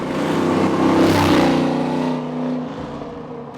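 A 1969 Camaro with a supercharged LSA V8 swap revs loudly and roars past, its deep, throaty exhaust note building and then fading as it pulls away, with no talking.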